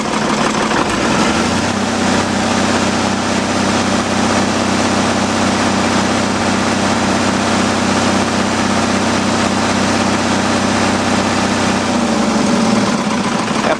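An oil-burning engine idles while warming up with the hand throttle fixed, a loud steady low throb with a regular pulsing rhythm running for about ten seconds under constant background noise.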